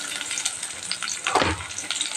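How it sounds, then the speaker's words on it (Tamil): Onions dropped into hot oil in a pan for a mint biryani gravy, a steady close sizzle with a brief louder burst of frying partway through. "பாருங்க, வெங்காயம் சேர்த்திக்கிறேன்."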